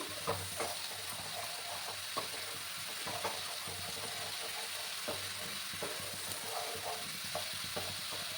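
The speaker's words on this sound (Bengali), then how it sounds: "পেঁয়াজগুলোকে এবার আমি ভালো করে কষিয়ে নেব গ্যাসের আঁচটাকে আমি বাড়িয়ে দিলাম" Chopped onions sautéing over a high gas flame for a spicy wallago fish curry give a steady, close sizzle broken by frequent scraping stir clicks throughout.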